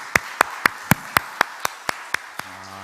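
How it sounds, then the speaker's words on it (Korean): A church congregation claps in thanks at a Friday late-night prayer meeting: about ten sharp, evenly spaced unison claps that fade slightly, with a low hum entering at the end. "우리 하나님께 감사의 박수를 드리겠습니다"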